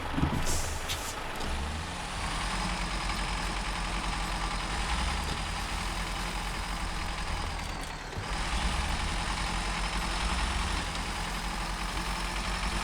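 A heavy truck engine runs steadily in the SnowRunner video game, a dense, continuous rumble with hissing air-like noise, dipping briefly once before resuming at the same loud level.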